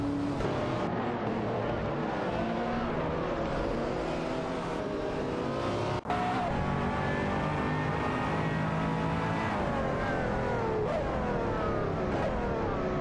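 Racing cars in a video game, including a Porsche Cayman DT4 and Mazda MT900, roar and rev continuously, engine tones rising and falling as they overtake, with a sharp click midway.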